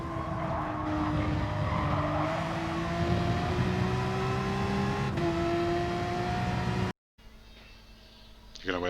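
A racing video game car at Catalunya holds a loud engine whine that drops in steps as it brakes and downshifts into a corner, with tyre scrub throughout, then a brief cut to quieter sound.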